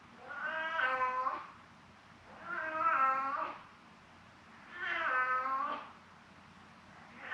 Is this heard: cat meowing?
yes